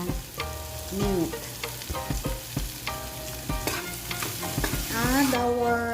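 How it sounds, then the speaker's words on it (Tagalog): Pork sautéing in a pan for pork tofu sisig, a steady sizzle broken by repeated scraping and stirring clatters, with faint tonal background sounds mixed in. "Now let's add our meat and saute it for a minute."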